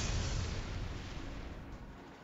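A stun grenade goes off in the video game Trails to Azure, a loud, dense, rumbling blast that fills the whole clip and slowly fades over about two seconds, with no voices.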